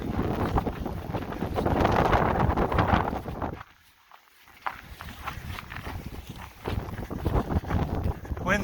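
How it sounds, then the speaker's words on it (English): Strong wind during an April blizzard roaring across the microphone outdoors near a house, loud buffeting gusts with a brief lull midway before the rushing noise returns. "Wind's blowing a little bit."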